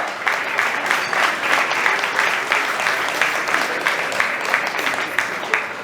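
Audience at a book milestone event applauds an author: steady, fairly loud clapping from a modest crowd, sustained evenly for several seconds with individual claps audible.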